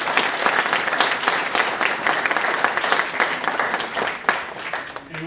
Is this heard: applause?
yes